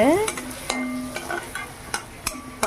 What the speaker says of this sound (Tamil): கேரட்டும் அப்படி நெய்யிலே அப்படியே வறுத்தெடுத்துக்கிறாங்க